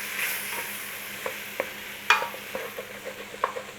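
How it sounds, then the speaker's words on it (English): Garlic and lentils are stirred in a pot with a wooden utensil, giving soft scraping strokes and small knocks over a faint sizzle, close and fairly quiet with no talking. "In there with that garlic. In there with your lentils. Little stir in."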